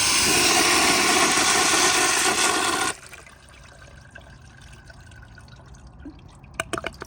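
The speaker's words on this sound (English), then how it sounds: "So here's a flush." A 2007 American Standard Allbrook urinal flushes with a loud, steady rush of water for about three seconds. The rush cuts off abruptly, leaving a quieter trickle and gurgle as it siphons, with a few faint drips near the end.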